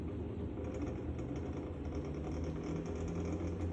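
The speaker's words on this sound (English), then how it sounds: "You can just push and hold. It'll move the machine." A Legacy Maverick CNC machine moving under jog control hums with a steady, even mechanical drone and faint whirring, holding constant at moderate level with no voices.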